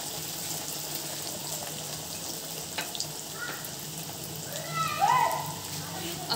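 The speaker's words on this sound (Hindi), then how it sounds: "अब ये फुल फ्लेम पर रखा हुआ ऑयल है, खूब अच्छा गर्म हो रहा है, इसको हम इसमें डाल देंगे।" Cornflake-coated chizza lowered into oil heated on full flame, a steady broadband frying hiss that swells briefly with bubbling near the end, close and moderately loud with no talk.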